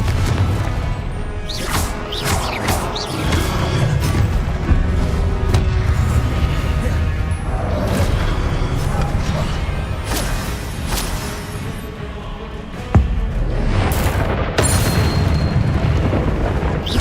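Confringo explosive fire spells blasting during combat in the video game Hogwarts Legacy: repeated loud bursts and booms over dense, continuous game noise, with a sharp heavy impact near the end.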